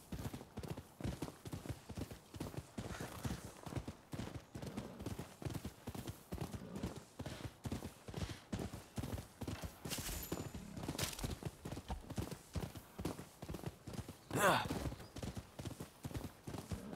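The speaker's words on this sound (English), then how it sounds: "We'll just ride our horse over there." Horse hooves gallop in the video game Rise of the Ronin, a steady fast clip-clop rhythm running throughout under ambient game noise, with a brief whinny-like burst near the end.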